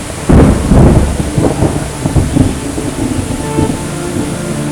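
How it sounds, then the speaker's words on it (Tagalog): Heavy rain pours steadily on a Manila street while deep rumbles of thunder roll close by, loud and continuous throughout. "Sobrang lakas po ng ulan."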